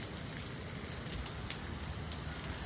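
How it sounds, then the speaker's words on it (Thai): Soft, steady patter of light rain drizzling down, continuous and fairly quiet, with no voices. "ผมลงจากรถฝนยังโปรยๆอยู่เลย"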